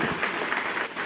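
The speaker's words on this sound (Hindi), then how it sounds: "एक बार जोरदार तालियां इनके लिए" Audience at a company plan presentation in India applauds new members, a steady dense wash of clapping from a crowd, moderately distant and even throughout.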